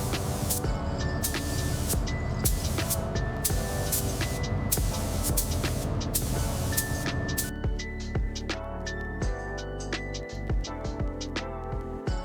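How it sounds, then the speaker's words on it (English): HVLP spray gun laying deep gloss black paint onto 1966 Harley-Davidson Shovelhead FLH parts in slow overlapping passes; a steady hiss runs under loud music with tonal layers throughout. "We're applying the deep gloss black using slow, overlapping passes with the HVLP gun"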